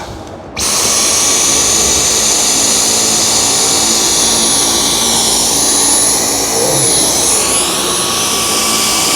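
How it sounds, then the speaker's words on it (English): A Dyson V10 cordless vacuum with its torque drive head runs steadily on a matted rug, a loud close whine with a high motor tone that starts abruptly after a brief quiet moment and holds continuously, shifting slightly in pitch as the head moves. "See how that torque drive head is just fluffing up that fiber."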